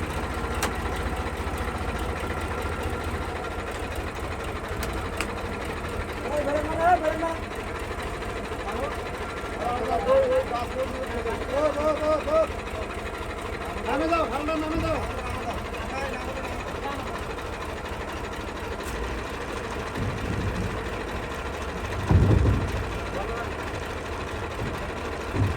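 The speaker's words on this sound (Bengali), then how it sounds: "এখন ট্র্যাক্টরটা নৌকার উপরে ওঠানো হচ্ছে।" Tractor engine chugging steadily at mid distance while being driven up a bamboo ramp onto a boat at a small river crossing, voices talking over it.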